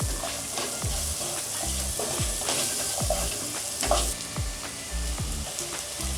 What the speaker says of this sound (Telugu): ముందుగా కట్ చేసి పెట్టుకున్న ఉల్లిపాయ ముక్కలు యాడ్ చేసి ఫ్రై చేసుకోవాలి బాగా